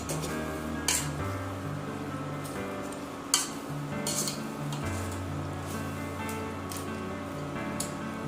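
A spoon scrapes and stirs through thick food in a pot of Isan-style catfish mok, with occasional clinks against the metal over a soft sizzle.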